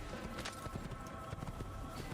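A horse's hooves clop at a steady trot in the original Assassin's Creed video game, faint and rhythmic beneath a constant murmur of in-game ambience.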